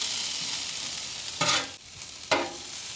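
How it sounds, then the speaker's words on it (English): Onions frying in bison tallow give a steady high sizzling hiss, with two louder bursts of crackle and stirring partway through, and no voices. "Put the onions into the fat."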